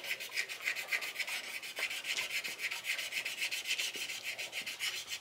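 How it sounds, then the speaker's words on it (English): Friction polish is rubbed by hand onto a piece of wood that has been sanded to 600 grit. It makes a steady, rhythmic rasping swish with even, repeated strokes, close and clear, and no voice is heard. "And then we're going to rub on the friction polish."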